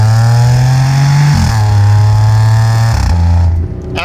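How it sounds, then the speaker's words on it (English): Audi car accelerating hard, its engine roaring loudly and close by as the pitch climbs, then drops at two quick gear shifts before climbing again, with no talking. "is 0 to 100 k's an hour in 4 seconds flat, and boy does it make an absolutely sensational noise while doing it"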